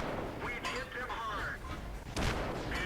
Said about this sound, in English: He's got the 90mm gun.